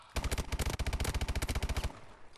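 A video game shooter's automatic weapon fires a single rapid burst of about twenty evenly spaced, sharp shots lasting under two seconds, loud and close, then falls quiet.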